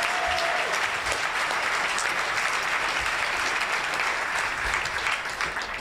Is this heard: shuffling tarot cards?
no